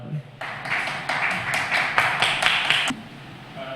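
Audience members at a Tamil astrology research group's monthly meeting clap as a guest speaker is introduced, a brief, even stretch of close, crisp hand clapping that starts abruptly and stops cleanly after a couple of seconds, over a faint room murmur.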